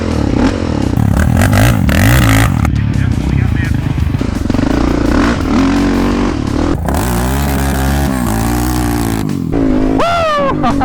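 Yamaha Raptor quad with a 686 big bore engine and a Predator quad ride a fast, rocky dirt track, engines revving up and down in bursts under loud scraping and clattering, with voices talking over the noise.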